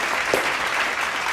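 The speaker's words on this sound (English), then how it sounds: "Please, round of applause." A short burst of audience applause after a talk on women's education, a steady wash of clapping with one slightly louder clap near the start, over about a second.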